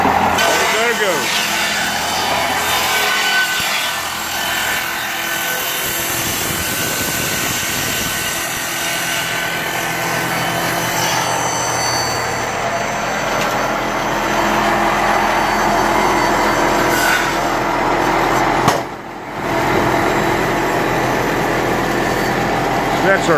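A saw cuts log timber against the fence for a salt box dormer on an off-grid log cabin, with a loud, steady, continuous whine that runs nearly throughout and drops out briefly near the end.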